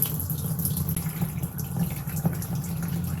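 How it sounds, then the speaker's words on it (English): Water runs steadily from a tap while a carboy cleaner is rinsed out after a PBW wash, a continuous close splashing flow with no talk over it. "What I'm going to do is I'm going to run that in both sides, and then you rinse it out."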